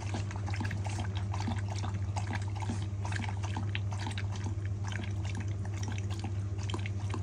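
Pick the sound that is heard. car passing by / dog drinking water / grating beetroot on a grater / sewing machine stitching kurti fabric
dog drinking water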